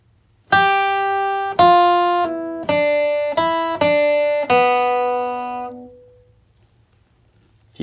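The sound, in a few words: guitar playing first measure of country bluegrass lick in G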